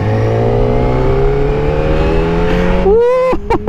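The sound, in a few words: Kawasaki Ninja ZX-4RR motorcycle engine revving, accelerating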